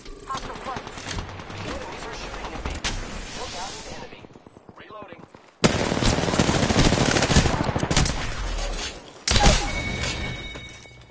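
Rapid automatic gunfire from Apex Legends rattles in sustained close bursts, pausing briefly then resuming louder, with voices talking over the shooting.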